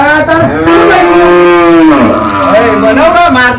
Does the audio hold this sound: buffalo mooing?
yes